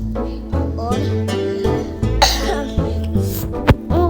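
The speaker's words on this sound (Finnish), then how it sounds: "mulla on vähän yskä" Someone coughs a few times, sharp and close, over steady background sound and chatter while the Stumble Guys game plays.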